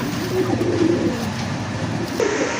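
Pigeons coo at a pigeon farm, soft repeated coos rising over a steady background hiss, heard up close with no talking.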